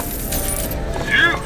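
Coins jingle as money is picked up in BioShock Infinite, a brief bright metallic chime near the end over steady game background noise.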